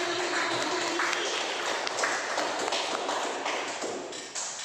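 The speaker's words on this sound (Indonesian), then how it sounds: "tepuk tangan untuk Desi." Audience of teachers clapping at a school presentation event, a steady dense patter of many hands held at even loudness for several seconds.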